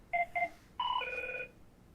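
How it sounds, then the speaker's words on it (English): A telephone rings faintly in the background: two short electronic trills, then a longer sustained ring, with low noise underneath. "Is that a phone call?"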